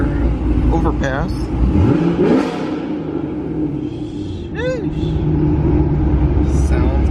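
A brand new Porsche accelerates along the road, its engine rising loud and close in a steady surge over road rumble, with a brief voice early on.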